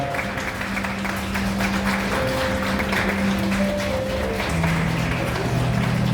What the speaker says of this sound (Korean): 기본적인 박수 부탁드리겠습니다